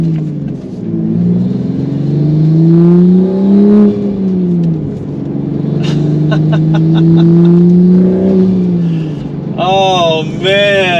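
Manual Toyota MK5 Supra engine revving while driving, close and loud: the engine note climbs and falls through two long pulls, then a quick sharper rev near the end.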